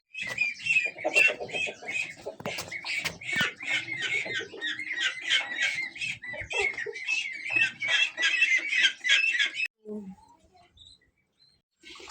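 Dense chorus of clucking chickens and cooing pigeons, loud and continuous, with coos and squawks mixed in; it cuts off abruptly near the end, leaving quiet.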